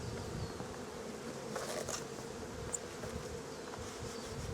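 Honeybees hum steadily around an open hive, a soft continuous drone with occasional louder buzzes of single bees flying close past, fairly quiet and without voices.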